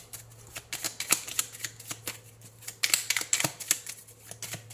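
Oracle cards are shuffled and handled, giving a run of quick papery flicks and snaps, close and fairly crisp, with a faint steady hum underneath and no talking.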